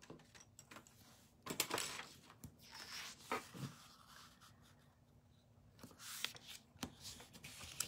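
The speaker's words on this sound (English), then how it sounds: "I'm going to fold my card base in half first." A paper card base being folded in half for a handmade stamped card, with scattered crisp crinkles, creases and light taps from handling the paper close up, no talking.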